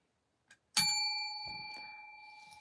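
A single bell rings out clearly after a faint tap, its bright tone sustaining and slowly fading over a couple of seconds in a quiet room.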